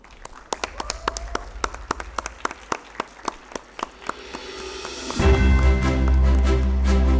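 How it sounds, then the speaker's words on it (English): Scattered hand claps ring out at a university convocation ceremony for a graduate, a steady run of sharp claps over a murmuring hall before a loud sustained tonal swell takes over. "A huge round of applause for Anirudh Ashok."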